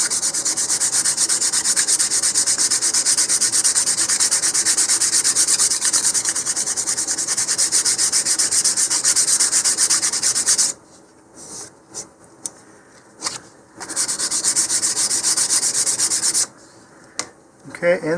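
Sandpaper is rubbed back and forth along the seam of a Rocketarium Super Chief II model rocket, making a loud, close, continuous scratchy rasp broken by a few short pauses near the end.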